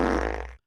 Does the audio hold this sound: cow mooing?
no